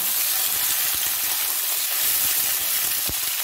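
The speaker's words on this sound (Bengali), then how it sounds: "বন্ধুরা আমি এঁচড়টাও একটু ভেজে নেব" Raw jackfruit frying in oil in a pan, a steady dense sizzle and crackle close up, with no voices.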